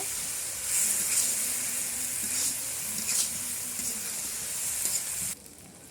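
Catla fish biran fries in a pan, a steady close sizzle with soft scraping stir strokes, ending as the pan is covered.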